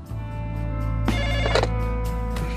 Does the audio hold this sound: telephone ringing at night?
yes